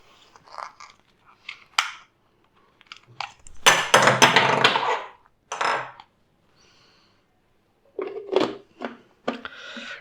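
A spatula pushing sweet lemon inside a Bosch TrueMixx Pro mixer grinder jar, a series of close, irregular scraping, knocking and squelching bursts separated by short silences.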